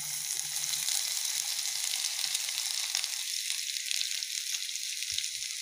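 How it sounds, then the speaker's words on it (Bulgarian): Onion and garlic fry in hot oil in a pan, giving a steady, bright sizzle throughout, with a few soft stirring knocks early on. "Време е вече да сложим лукът и чесъна едновременно."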